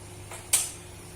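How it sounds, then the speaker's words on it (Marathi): The knob of a kitchen gas stove turns with a faint creak, then gives one sharp ignition click, quiet against a still room. "गॅस चालू करायचा."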